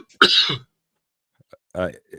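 A loud throat-clearing cough up close, followed by a pause and then a second, shorter rough cough.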